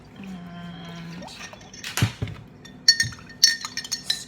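A spoon clinks against a glass of iced coffee in a few quick taps and scrapes, bright and close, after a brief quiet pour-like trickle at the start.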